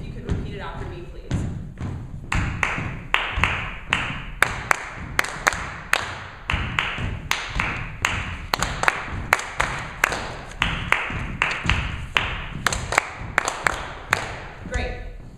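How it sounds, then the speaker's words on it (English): Hands clap out a rhythmic pattern of sharp, close claps in quick groups with brief pauses, repeated steadily over several bars and alone, with no voices. "I'm going to clap the rhythm,"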